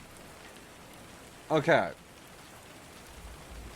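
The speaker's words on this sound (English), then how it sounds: "Let's turn off the rain." A rain sound effect plays as a steady, soft hiss throughout, with one brief spoken word near the middle.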